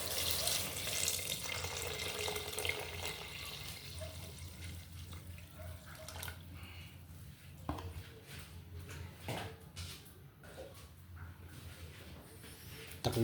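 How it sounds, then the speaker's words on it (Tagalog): Water running from a tap and splashing into a pot for chicken tinola, a steady close wash of flowing water with small clinks and drips, no voices. "Lagyan na natin siya ng tubig."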